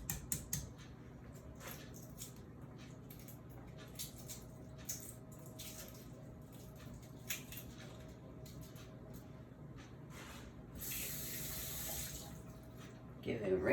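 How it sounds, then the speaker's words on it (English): Tap water runs during a rinse in a kitchen while Italian meatballs are being made, a soft steady stream with faint clinks, swelling into a louder rush near the end; a voice talks quietly over it. "Give it a rinse."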